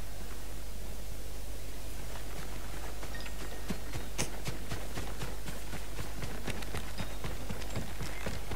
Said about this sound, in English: She's your slowest horse ever.